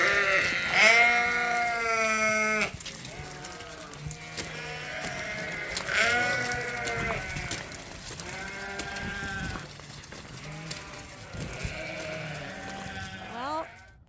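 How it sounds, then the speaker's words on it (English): Dorset cross sheep bleat from their pens at sundown after a day of deworming and sorting, with repeated overlapping calls, some close and loud, others fainter. "All the sheep are in their pens."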